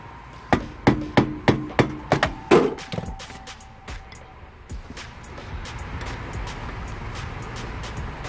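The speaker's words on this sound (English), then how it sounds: "I always use my trusty hammer." A hammer knocks on a car's brake caliper to free it, first a steady run of about seven sharp metallic blows, then a few scattered hits over a rumbling background.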